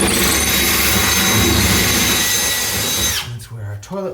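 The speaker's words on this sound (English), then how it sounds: "And then we'll drill on our part." A power drill bores steadily into a basement wall of a 100-year-old house during rough plumbing work, a loud continuous whine for about three seconds that then stops, followed by brief talk.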